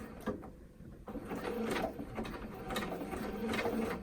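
A home sewing machine runs a default zigzag stitch on skirt fabric, a steady mechanical whir with rhythmic needle clatter that holds continuously after a brief pause near the start.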